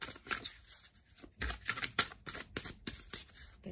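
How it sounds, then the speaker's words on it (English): Tarot cards being shuffled by hand make quick papery riffles and soft slaps in repeated bursts, close and quiet with no talk. "let's give the cards a good shuffle and see what comes up."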